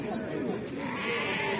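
Sheep bleat amid busy chatter at a Moroccan weekly livestock market selling rams, ewes and goats, the animal calls rising faintly through constant nearby talk and crowd noise.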